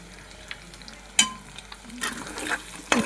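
Egg curry with chopped onion and tomato sizzles softly in an oiled pan while a utensil stirs and scrapes, giving a few sharp clinks against a low, steady frying hiss and no talk.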